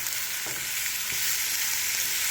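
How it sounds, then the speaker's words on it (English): Jackfruit seeds fry with onion and pepper in a hot pan, giving a steady, close, even sizzle with a few soft stirring scrapes and no talking. "Fry down with some onion and pepper like ash brown."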